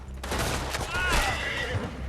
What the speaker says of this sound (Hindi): गोली पे गोलियां पड़ रही है मेरे को